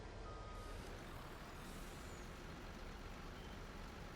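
Steady broadband engine and road rumble from a reversing farm vehicle in Farming Simulator 19, continuous and loud throughout, with any backup beeps buried in the drone.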